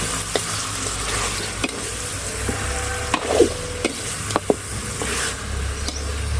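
Food being stir-fried in a pan, with a steady background sizzle broken by several short scrapes and clinks of a spoon against the pan at irregular intervals.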